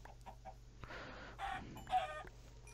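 Video game chickens cluck in short, separate bursts, a few soft calls early on, then louder, busier clucking in the middle, heard close over a faint low hum.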